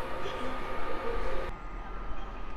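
Polish EU160 electric locomotive hauling a passenger train from Warszawa Zachodnia to Gdynia Główna past a station under construction, a steady moderate rumble of passing wagons that cuts off abruptly partway through.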